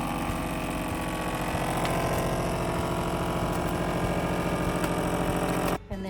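Vacuum sealer running steadily as it pulls air from a bag of rice, a continuous motor whir with a rattling buzz that cuts off abruptly near the end.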